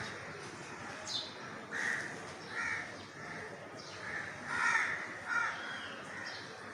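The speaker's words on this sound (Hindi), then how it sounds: "परिंदों की आवाज़ें भी आ रही हैं" Crows caw repeatedly in a lush valley with mango and coconut trees, heard at a distance over steady outdoor ambience, several harsh calls spaced a second or so apart.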